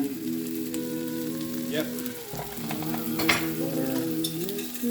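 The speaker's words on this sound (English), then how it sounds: "We're going to add a little more butter to this pan." Scrambled egg and butter sizzle steadily in a frying pan, a close bubbling crackle that continues while someone speaks briefly over it.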